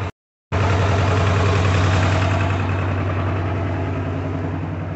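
After a brief silence, a small tractor engine starts and idles with a steady low chugging rumble, close and loud, gradually easing slightly.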